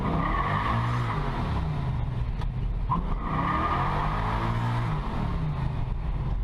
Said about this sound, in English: you can kind of roll on the throttle in this thing and it'll just fry the tires